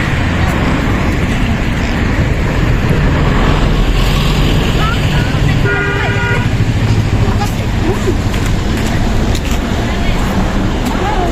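A trawler boat engine drones loudly and steadily through a whole ride on the water, a dense unbroken rumble with voices talking over it.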